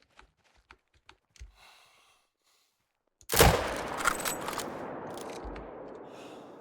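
Rifle shot taken at a mule deer while hunting, a single sharp, loud report that echoes and rolls away outdoors, preceded by a few faint clicks and rustles.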